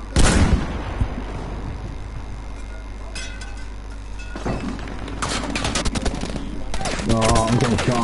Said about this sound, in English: oh, I'm getting shot, mate.